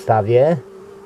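A close, loud buzz of honey bees at their hive swells for half a second, then fades to a thin steady hum.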